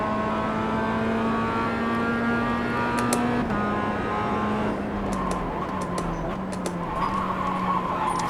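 A Mazda MX-5 Cup car in iRacing at The Bend West Circuit, its engine droning as the tyres slide and scrub, with a shifting pitch and a brief squeal of rubber.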